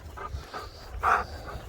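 Several dogs panting softly on a walk through bushland, a steady faint breathing rhythm with one louder huff near the middle.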